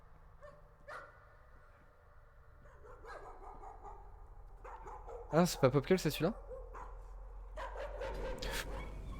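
A dog in the horror video game Layers of Fear barks in a quick run of loud yaps, then whimpers and whines, while someone talks in French over the game sounds.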